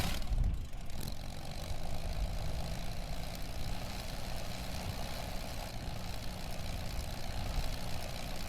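Rocket engines in a modded career video game start with a sharp onset and settle into a steady, loud, low rumbling roar that holds without a break.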